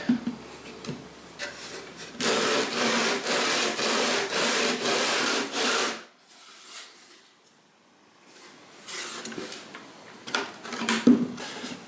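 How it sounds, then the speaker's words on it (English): Steady, continuous sanding of a wooden guitar back on a sanding dish, a loud rhythmic rubbing for several seconds, then quieter scraping strokes after a brief pause. "radiusing the back by sanding it on the sanding dish until all the chalk marks are gone away"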